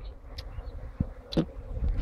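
Bees buzz around an old honey-gathering site in Thodupuzha while stones are moved aside during a honey hunt, giving brief insect hums over a low outdoor rumble with a few sharp knocks.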